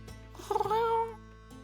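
An owl cat creature in a crafting video game gives a single drawn-out, tonal meow-like call, rising and then fading, clear against a quiet background hum.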